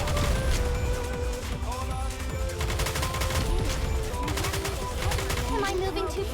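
Gunfire from the video game Nikke: rapid, repeated bursts of shots fired continuously over in-game music.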